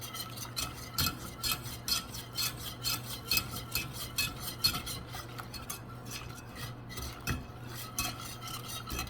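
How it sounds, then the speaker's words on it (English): A spoon stirs butterscotch pie filling in a pot with a rapid run of scraping, clinking strokes against the metal, fairly quiet and rhythmic under a low steady hum. "we're just going to go ahead and keep stirring this"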